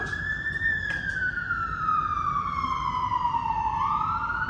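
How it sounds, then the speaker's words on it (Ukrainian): A siren wails in the street outside, a single long tone sliding slowly downward then rising again, loud and steady over a constant hum of traffic. "Чуєте, як машини гудуть?"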